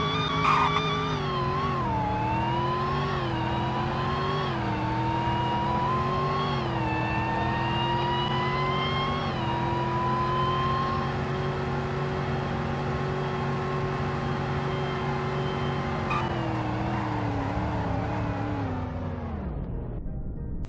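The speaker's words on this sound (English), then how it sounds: "Now for a 0 to 100 in braking test, this is in the instant braking mode" A Roblox car in a snowy Greenville setting accelerates from a standstill to 100, its engine whine climbing steadily through gear changes, then cuts off abruptly under instant braking, with no one talking.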